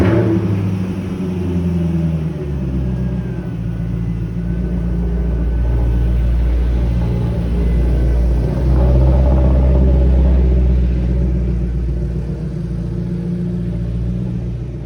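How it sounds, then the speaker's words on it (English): A BMW M62 V8 in a 5-series rumbles steadily at idle inside an empty building, its deep low drone filling the space throughout with a slight swell in revs midway and no talking. "I got to start the magical sounding M62 V8 in an otherwise deserted building and hear it clear its throat"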